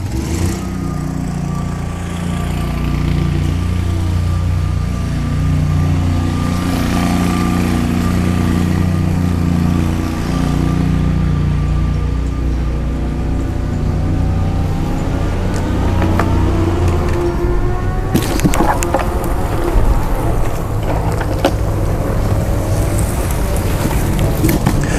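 Hoveround MPV5 power wheelchair with seat lift driving outdoors over grass and concrete, a steady close motor hum and whine running throughout with rougher rattling bumps in the last few seconds.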